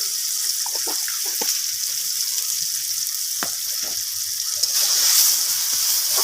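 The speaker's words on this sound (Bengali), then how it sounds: "তো চিনিটাকে দিয়ে আমের সাথে আবারও নাড়াচাড়া করে চিনিটাকে এইভাবে রান্না করে নিচ্ছি" Sugar cooking down with mango pieces for a chutney in a pan, a steady soft bubbling sizzle with a few light stirring clicks, growing a little louder near the end.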